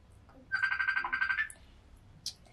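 A telephone rings in a short burst of warbling electronic trills lasting about a second, followed by a faint single chirp, heard indoors with no talk over it.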